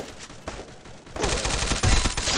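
Rapid weapon fire from a gun being tested in the Free Fire video game, a dense burst that starts softly then swells into loud continuous shooting, with a heavier thump near the end.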